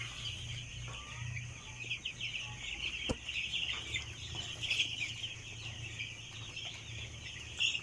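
Eight-day-old broiler chickens in a poultry pen keep up dense, continuous high peeping and chirping from many birds, close and steady, with a low background hum and no talking.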